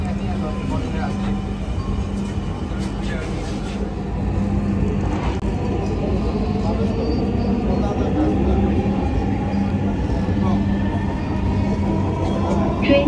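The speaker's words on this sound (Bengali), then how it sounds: "This train is bound for Motijhil." Metro train at Kazipara station bound for Motijhil, a steady low rumble of the carriage with a hum, while announcements play over it.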